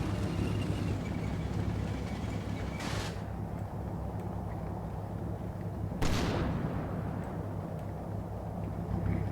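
Booming reports from 88mm artillery in the wargame Combat Mission Red Thunder, with two sharp, loud blasts spaced a few seconds apart over a steady low battlefield rumble.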